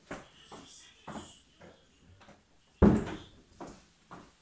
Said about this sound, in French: Attendez, je vais fermer la porte parce qu'on entend ma fille